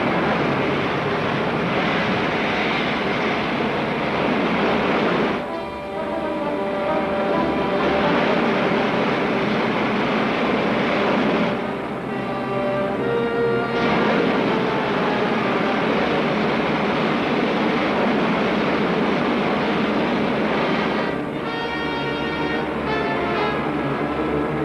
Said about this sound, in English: Firing main jets.